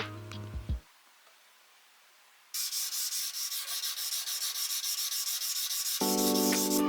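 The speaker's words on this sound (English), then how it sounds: "After some very light and careful sanding, I got all of the marks out of there" Light, careful hand sanding of the clear coat paint on a custom e-bike frame built from a VanMoof, a steady close-up rubbing hiss that starts after a brief quiet gap and carries on evenly to the end.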